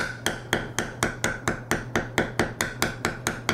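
Metal leather beveling tool struck along a bevel line on leather, about fourteen sharp, evenly spaced taps in steady rhythm, close and loud with no talking.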